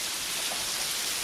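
Rain falls steadily, a dense, even hiss of drops close by, continuous with no gaps or voices.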